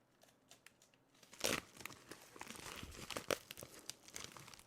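Packaging for a Maono PD100X microphone being opened: loud crinkling and tearing of plastic and cardboard in several sharp bursts, close up, with no talking.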